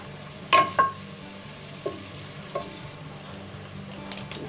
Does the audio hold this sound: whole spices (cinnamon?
yes